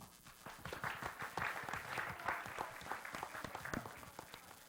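Scattered applause from a modest audience at a virtual reality summit, a steady patter of claps held at a fairly low level for several seconds.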